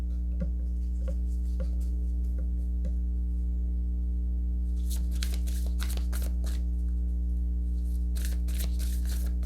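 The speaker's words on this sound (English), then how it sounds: "I'm actually shuffling off camera now because I can't stretch that far." Tarot cards shuffled off to one side: a few soft ticking riffles early, then a denser burst of crisp card flicks in the second half, over a steady low room hum.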